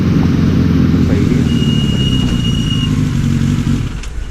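A motorbike being ridden, its engine droning loud and steady up close with rushing wind, the throttle easing off toward the end.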